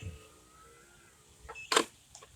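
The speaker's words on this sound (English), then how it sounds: "you'll hear it chirp and you'll hear it lock." A short electronic chirp rings out from a 2021 Berkshire 45A RV's keyless entry, preceded by a faint mechanical clunk of the door lock engaging, with quiet background otherwise.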